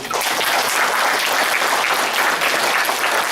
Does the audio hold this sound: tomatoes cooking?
no